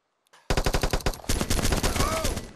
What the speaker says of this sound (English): I got him. Shot him with a scorpion.